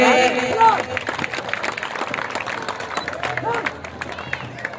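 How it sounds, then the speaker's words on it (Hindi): An audience at a school spring festival claps loudly, with dense applause and crowd noise under a voice talking over a loudspeaker throughout. "जोरदार तालियां लगाइए।"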